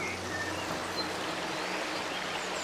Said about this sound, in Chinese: 你看下面这条小溪，这个水是特别的清澈